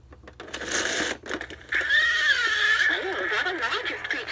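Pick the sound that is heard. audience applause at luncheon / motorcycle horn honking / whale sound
whale sound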